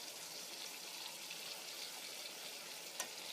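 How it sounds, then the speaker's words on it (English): Pot of water on a stove at a gentle boil, giving a steady, close bubbling hiss with faint popping throughout and one brief louder pop near the end, no voices. "Boiling, boiling, boiling. We've got a nice little simmer going here."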